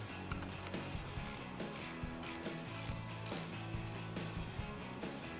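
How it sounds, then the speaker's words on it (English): A half-inch ratchet wrench tightens clamp bolts on a soft top for a 1997–2006 Jeep Wrangler TJ, giving steady rapid clicking in repeated bursts, close and fairly quiet, with no talking. "we're going to use that 1/2 inch wrench to tighten them up"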